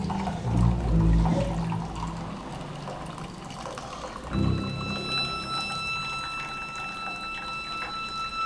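Warm water poured into a cup, a soft liquid splash and trickle at a moderate level, with a surge near the start and another midway, over a steady background hum and a faint high tone.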